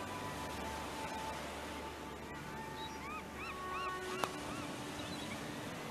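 A bird honks in a VR mini golf video game, a series of short, rising honking calls in the middle of the clip, fairly faint over a steady hiss, with a brief click near the end.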